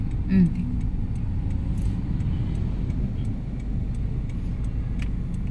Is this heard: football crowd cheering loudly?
no